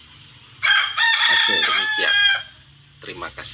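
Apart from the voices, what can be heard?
rooster crowing outside the room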